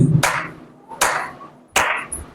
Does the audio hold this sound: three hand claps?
yes